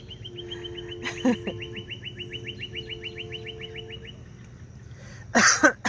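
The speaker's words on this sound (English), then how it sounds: "Surrounded by ducks." Ducks from two mixed families mill around close by, giving a rapid, evenly spaced string of high peeping calls over soft background noise, ending with a brief louder rustle.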